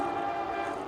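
A passenger train passes close by in Champaign, Illinois, its horn sounding as a sustained loud tone over the steady rumble of the cars for the whole short moment.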